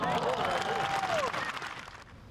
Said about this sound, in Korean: 갤러리들도 박수를 치며 환호합니다.